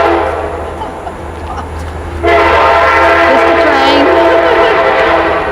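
A train rolls past close by, its loud, steady rumble suddenly swelling as the horn blasts a long, sustained chord over the rail noise.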